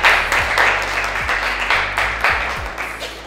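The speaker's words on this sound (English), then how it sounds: "A loud round of applause." A loud round of applause from a crowd in a college setting fills the whole stretch, dense and steady with a few sharper swells, with low musical tones running underneath.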